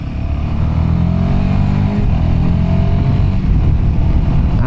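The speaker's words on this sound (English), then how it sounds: "Put it in second gear in this kind of speed, 20 kilometers per hour, and the engine talks." Royal Enfield Himalayan motorcycle engine pulling in second gear at about 20 km/h, a steady, loud low-pitched thrum that holds constant without pauses throughout, with no talking.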